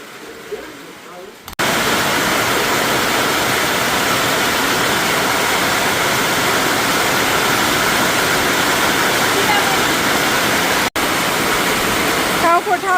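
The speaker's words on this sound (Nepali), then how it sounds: "पानी पनि पर्ने भयो" Heavy monsoon rain pours down on a rainy day at home, a loud, dense, steady roar that starts abruptly after a quieter opening moment and keeps going with only one brief dip.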